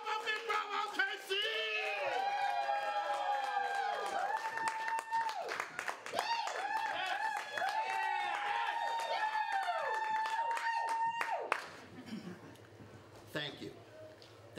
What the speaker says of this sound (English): Get your hands clapping. Make some noise for Pop-Up Improv OKC!